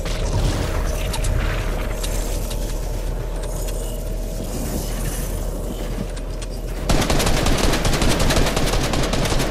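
Loud, dense gunfire in the video game Fortnite, rapid shots layered over constant game noise, growing sharper and more intense near the end, with no talking.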